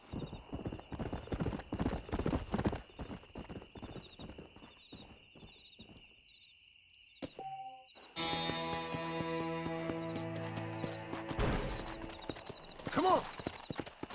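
A stallion in Red Dead Redemption clops along at a steady walking rhythm, then neighs, with game music and people talking over the later hoofbeats.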